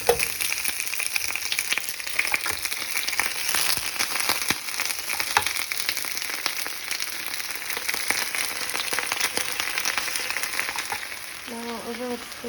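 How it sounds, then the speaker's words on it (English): Lobster pieces frying meat side down in hot olive oil with garlic, a steady close crackling sizzle throughout with scattered pops and a brief clink near the end. "Then we're gonna add the lobster,"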